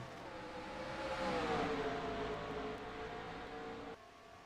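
Stock cars accelerating away at a race restart in Texas, a faint distant engine drone swelling and fading over crowd-like background noise, no talk.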